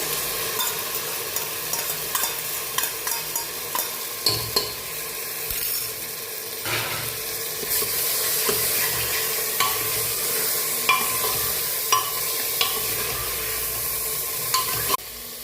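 Tomatoes hit a hot spiced tempering in a pan for a rajma and potato curry, sizzling steadily while a spoon scrapes and stirs in frequent close strokes.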